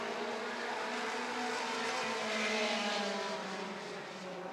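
Short track race cars at Rockford Speedway roar together in a steady, loud engine drone just after the green flag, the pack's sound swelling slightly and holding without a break, no voices over it.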